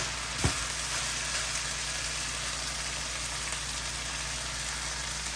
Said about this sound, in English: just continue to stir and stir and stir until you get everything incorporated